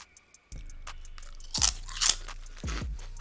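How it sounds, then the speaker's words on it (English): Crisp, loud crunching of German nacho-style snack chips being chewed up close, with several sharp bites and crunch bursts over quiet chewing, no talking. "Honestly, I kind of wonder what other flavors they make of these, because they're really nice and crunchy and fun to eat."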